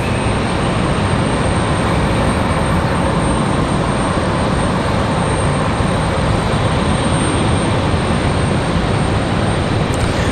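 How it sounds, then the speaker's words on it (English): An American Airlines plane lands at Raleigh-Durham International Airport in stormy weather, a steady, loud broadband roar of engine and rushing air that holds without a break, with no voices. "So American 1904 landing quite quietly."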